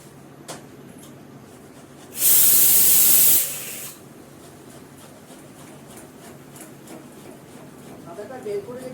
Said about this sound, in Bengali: আদাটা কষে নেব।